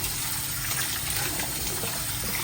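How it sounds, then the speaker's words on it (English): Cold water poured in for a Khmer spicy hotpot, a steady broadband gush of running water that continues evenly throughout, close and moderately loud with no talk. "So I'm going to go ahead and add cold water here."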